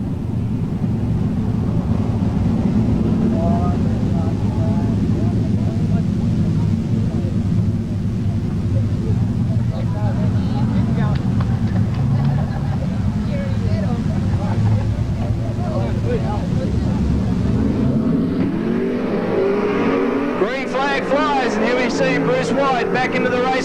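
Sprint cars racing in the New South Wales Sprint Car Championship, a continuous loud engine roar that rises and falls as cars pass, with a commentator talking over it throughout.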